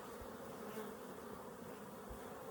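Honey bees buzzing around an opened beehive in Colorado, a faint, steady, continuous hum with no voices.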